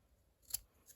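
Scissors make one crisp snip as they trim the uneven end of a folded paper treat box, quiet and close, with a fainter second snip just after.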